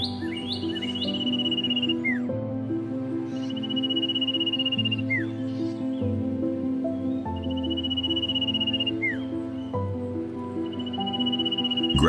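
Amazonian woodpeckers call in the Amazon jungle with clear, repeated whistled notes and chirps that rise and fall in phrases, moderately near, over a soft bed of insect buzz.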